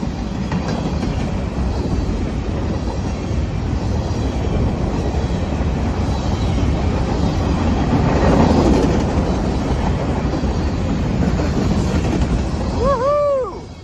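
A freight train on the Central Pacific line between Lovelock and Winnemucca rumbles past close by, a loud, steady roar with rhythmic wheel clatter that swells midway, then a horn blares briefly at the end.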